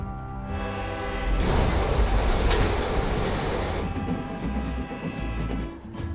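A train rumbles past on the rails, a loud rushing roar with rhythmic clatter and some high metallic squeal, steady throughout.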